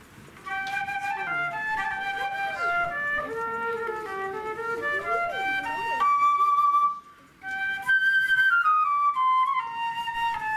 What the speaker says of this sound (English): Anyway, flute sounds like this.